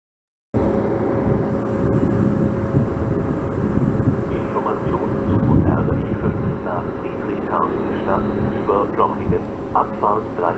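A regional train rumbles and hums steadily as it pulls into a station platform, with a high sustained tone over the noise and a voice speaking near the end.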